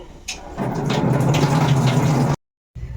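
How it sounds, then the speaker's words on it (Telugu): Tap water gushing over chopped snake gourd being rinsed, a loud steady running stream for about two seconds that cuts off abruptly, then resumes faintly. "ఇప్పుడు టేప్ వాటర్ తోటి ఒక టూ టైమ్స్ అలా కడిగేసుకుని"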